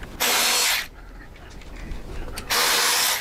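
Short bursts of a power screwdriver or drill backing out two screws from a switch housing panel during a front air ride suspension install, two loud whirring runs with a quieter gap between them.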